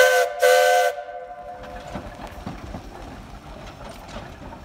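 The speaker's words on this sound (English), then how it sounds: "I do love the sound of a steam engine working." At a steam picnic in Milton, a steam whistle blasts loudly for about a second, followed by the rhythmic chuffing and clanking of a working steam engine.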